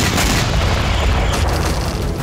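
Heavy bombardment in Kursk: dense, continuous rumbling blasts and booming impacts rolling together without a break, loud and sustained like close artillery shelling.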